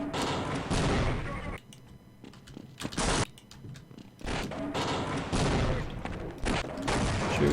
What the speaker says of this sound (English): you just shoot him in the head with the shotgun